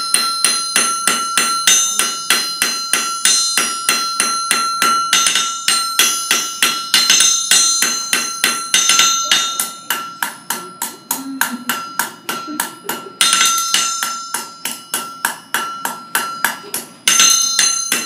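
A blacksmith strikes steel on an anvil in a fast, steady run of ringing hammer blows, loud and close, with the rhythm briefly pausing and resuming throughout.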